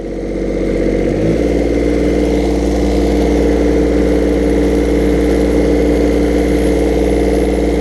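The engine of a heavy machine with a blade and boom arm starts up about a second in, then settles into a loud, steady idle that carries on alone for the rest of the clip.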